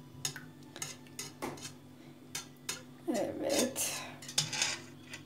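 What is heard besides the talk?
whisking crepe batter in a bowl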